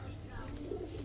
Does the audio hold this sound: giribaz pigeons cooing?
yes